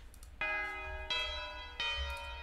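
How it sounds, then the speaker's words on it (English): Tubular bell notes from a beat-making kit sound as three loud, ringing strikes about 0.7 seconds apart, each with a long shimmering sustain, forming a simple melody line. "Yeah, think this should be a tubular bell."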